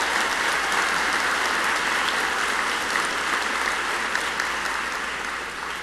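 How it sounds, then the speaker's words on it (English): A conference audience at a cystic fibrosis medical meeting claps steadily and densely for several seconds, a broad even wash of applause that fades slightly at the end. "Please join me in a round of applause."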